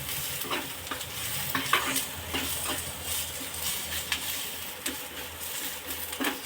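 Masala spices dry-roasting over medium heat in a pan while cooking masala bhaji, a soft continuous sizzle broken by scattered sharp scrapes and clicks of stirring, fairly quiet and close.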